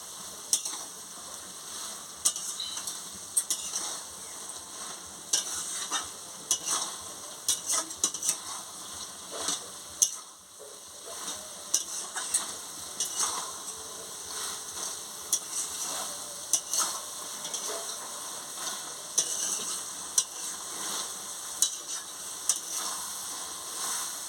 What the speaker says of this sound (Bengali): এবার আমি পরিমাণ মতো মিষ্টিটা দিয়ে দিচ্ছি, দিয়ে একটু ভালো করে নাড়িয়ে নিচ্ছি